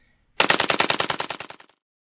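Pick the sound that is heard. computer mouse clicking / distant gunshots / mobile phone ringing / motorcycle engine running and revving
distant gunshots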